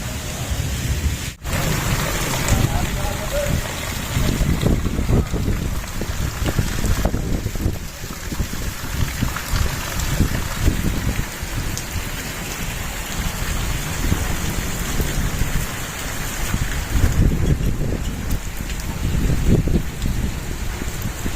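Heavy rain pours steadily over a village, a dense, loud hiss with thunder rumbling underneath in rolling swells throughout, no voices heard.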